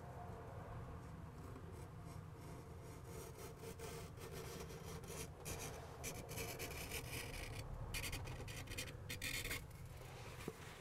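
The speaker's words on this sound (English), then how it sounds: "I've got too much silicone in there, so let's try this this trick for scraping stuff off." Excess silicone sealant being scraped off a plastic cassette toilet, a continuous faint rasping scrape with irregular strokes, close and alone without talk.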